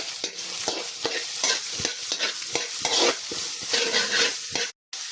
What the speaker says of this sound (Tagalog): Iprito muna natin tong carrots